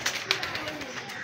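A pigeon perched on a neighbour's rooftop gives a few short coos mixed with bursts of wing flutter, heard close and mingled with faint background voices.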